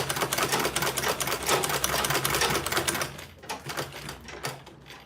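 A sewing machine back stitching fabric on an Ankara tote bag: a rapid, steady mechanical clatter of needle strokes, close and clear, slowing into a few scattered stitches before stopping, with no talking.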